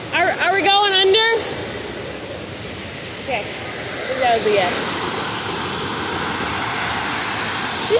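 A waterfall rushes as a steady broadband roar throughout, loud and close, while people briefly talk over it at the start and a few short voices break through later.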